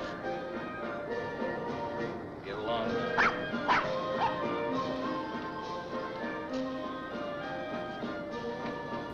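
A dog outside in a film scene from Rear Window barks and yips several times in a quick cluster near the middle, over a background of film dialogue and soundtrack.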